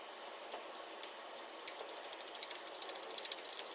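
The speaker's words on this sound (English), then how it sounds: "you kind of prop the ratchet in between here, and so it'll hold, and then you go to the outside and tighten it out there" A hand ratchet tightens a brake line bulkhead fitting during a brake tuck. It gives a fast run of sharp metallic clicks that speed up and grow louder toward the end, close up and with no talking.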